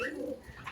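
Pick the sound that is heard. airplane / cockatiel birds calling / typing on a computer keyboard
cockatiel birds calling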